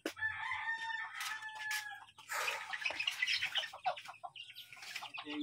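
A rooster crows loudly, then a flurry of hens clucking and squawking follows, busy and close, with some wing flapping.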